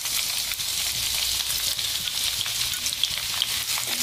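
Finely chopped garlic and ginger fry in hot oil, giving a dense, steady, close sizzle and crackle with faint stirring taps and no talk.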